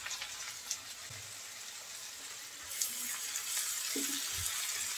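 Small cleaned shrimp, pre-marinated with turmeric and salt, hit a pan of frying garlic, and the steady sizzle swells louder from about the third second on, continuing alone without talk.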